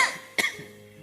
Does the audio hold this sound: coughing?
yes